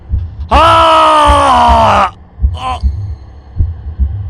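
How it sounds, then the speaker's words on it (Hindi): Steady low thumping heartbeat pulses, overlaid by a loud drawn-out wailing cry and then a shorter cry. "कुछ देर मुझे अपने दिल की धड़कनें साफ सुनाई दे रही थी"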